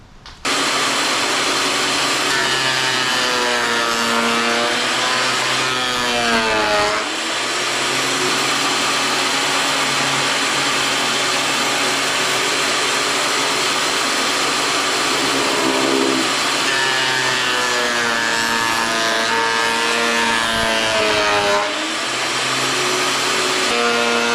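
A Vevor electric planer whines loudly while shaving a wooden board. The motor pitch sags and wavers under load during cutting passes and recovers between them, in one continuous run.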